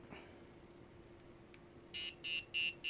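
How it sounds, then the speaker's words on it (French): A small homemade alarm built on an Arduino Nano sounds four short, evenly spaced buzzing beeps near the end, close and fairly loud, after a quiet stretch of faint room noise. "je voulais vous montrer ce petit mini-alarme que j'ai donc réalisé"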